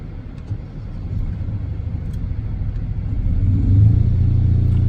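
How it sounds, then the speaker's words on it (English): The engine of a forestry brush truck is throttled up to drive its fire pump, a steady, close, low rumble that climbs in pitch and loudness toward full throttle and then holds. "I've throttled my engine all the way up"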